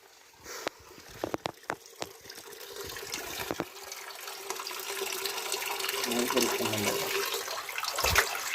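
Spring water flows out from inside a hill at a Shiva temple in a steady rushing stream that grows louder and fuller, with a few sharp knocks near the start and faint background voices.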